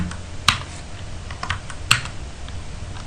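Keystrokes on a computer keyboard while a command is entered in a Wi-Fi WPS security test using Reaver, with two sharper key strikes, likely Enter presses, standing out over softer clicks, close and alone.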